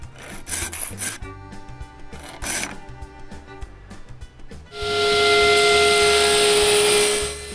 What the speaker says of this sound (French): avec une lime en triangle, je lime un bout du couteau plus bas, environ d'1/4 de pouce